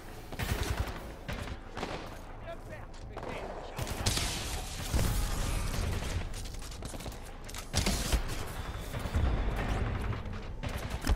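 Dense, sustained gunfire from the video game Titanfall 2, with bursts of rapid automatic shots and heavier impacts running nearly the whole time, loud and continuous with brief lulls.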